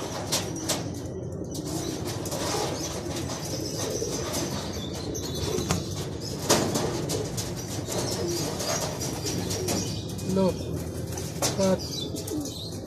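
Racing pigeons flutter in, arriving in Lucena, with bursts of wing flapping and soft cooing over a noisy outdoor background, several birds arriving one after another.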